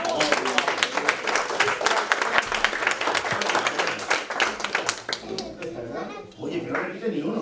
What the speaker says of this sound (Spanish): Un aplauso para Lua, por favor